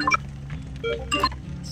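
A phone chimes with a rapid string of short electronic notification beeps and tones, several stacked close together over a low background hum.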